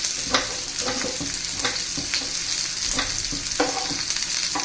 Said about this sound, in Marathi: त्यात लसूण घालून घ्यायचं आहे